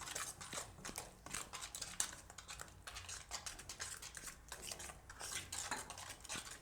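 A spoon stirs turmeric, coriander-cumin powder and salt into green pea kadhi, making close, irregular clinks and scrapes against the pot in quick bursts, fairly quiet with no talk.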